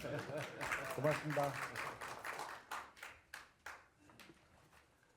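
Scattered hands clap at a Korea Heritage Service directors' meeting, irregular sharp claps under a voice that thin out into a few separate claps toward the end.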